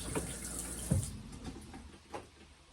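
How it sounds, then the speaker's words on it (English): Tap water runs on board a narrowboat, a steady soft hiss and trickle with a couple of brief splashy surges, close by and heard alone. "We have running water."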